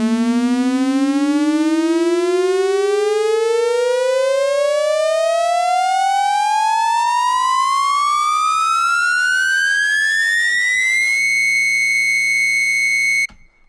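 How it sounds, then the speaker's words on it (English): A buzzy, thick Reese bass synth rising steadily in pitch for about eleven seconds, then holding one sustained note before cutting off abruptly. "that's a Reese, so you can hear the Reese on that."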